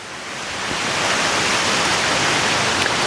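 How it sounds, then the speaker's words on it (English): Rainwater rushing out through garden swales after a tropical storm, a broad steady roar of flowing water that swells in over the first second and then holds constant, close and loud with no voices. "The moment that the rain starts to slow down, you'll notice the water just flowing right the heck out of here."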